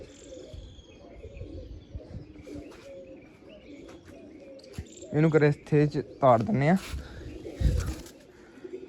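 Low pigeon cooing rolls on close by while crickets trill in the background; someone talks loudly in short bursts partway through.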